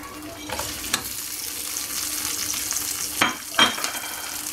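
Shrimp sizzles in oil in a pan of cooked calamari, a steady hiss throughout with a few louder crackling bursts near the end and no talking.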